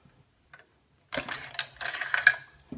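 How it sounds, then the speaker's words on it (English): A lightweight bolt carrier group slid out of an AR-15 on a tabletop, a close metallic scraping and clicking that follows a couple of faint taps and ends in a small clack. "The bolt carrier group is a really lightweight one as well. I'm going to pull it out."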